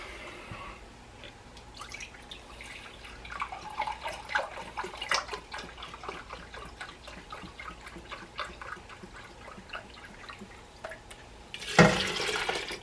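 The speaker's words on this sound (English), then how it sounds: "I'm going to add 4 cups of beef broth." Beef broth is poured into a stockpot full of soup ingredients, producing soft trickling and dripping liquid sounds that end in a brief louder splash.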